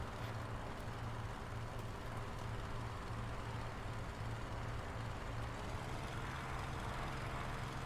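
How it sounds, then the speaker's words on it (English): A steady aircraft engine drone in the War Thunder flight game, a constant low hum holding at even loudness for several seconds with no talk over it. "I hear the engine."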